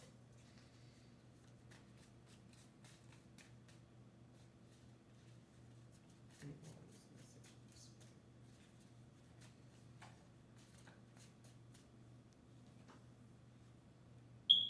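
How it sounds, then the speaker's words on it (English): Tarot cards are shuffled by hand in a quiet room, giving soft, faint riffling and light ticking over a low hum, with a sharper click right at the end. "I'm gonna shuffle. I'm shuffling again."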